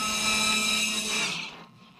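A launch boat's motor whines with a high, steady pitch, loud and close, then drops away and fades toward the end.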